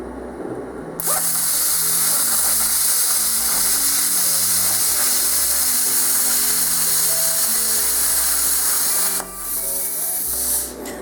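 A cheap 50-amp plasma cutter slices through metal with a loud, steady hissing roar that starts abruptly, holds for about eight seconds with rattling mechanical tones underneath, then cuts off and briefly resumes.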